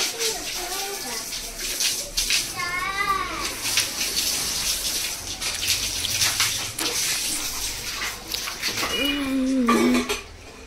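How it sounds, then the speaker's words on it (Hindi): A mixer jar and dishes clatter under running water as someone washes up in a kitchen, with a voice speaking intermittently over the splashing. "मिक्सर साफ कर बोलती सोनू को"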